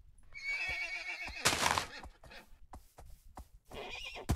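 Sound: horse neighing in Minecraft video game

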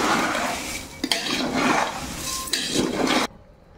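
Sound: mixing chivda with two spoons in a pan

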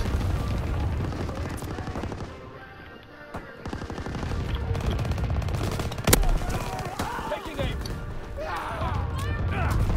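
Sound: gunfire in Call of Duty WW2 video game

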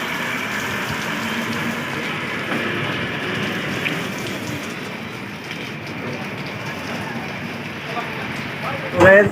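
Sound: rain

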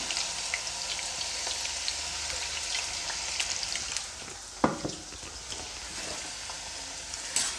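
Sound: potato sticks frying in hot oil

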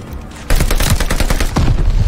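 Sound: gunfire in Call of Duty Vanguard video game

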